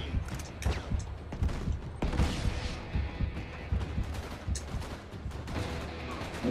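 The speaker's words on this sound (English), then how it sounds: "Constantly shooting his shotgun." Shotgun fire in the co-op action game Uncharted 3, a rapid string of loud blasts and mechanical clatter packed tightly together with scattered impacts, near and continuous without pauses.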